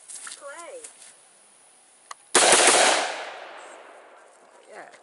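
Out in the country, a single loud gunshot cracks near the middle and rings out in a long decaying echo, with a faint pop before it and voices talking.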